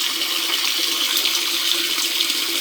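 Water pours steadily from an opened tap into a tank, a continuous broad rushing splash that stays loud and even throughout, with no voices.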